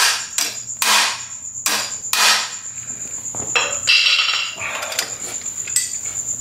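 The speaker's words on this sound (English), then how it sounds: "I'm going to grab a hammer here. I'm going to bend it a little bit out of place" A hammer strikes a metal part to bend it out of position: several sharp, loud, ringing metallic blows at irregular intervals, close by, followed by clinking and scraping.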